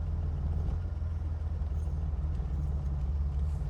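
A 1963 Chevy Corvair Monza drives along smoothly, its engine keeping up a steady low rumble with road noise that sounds close and even, with no pauses and no one talking.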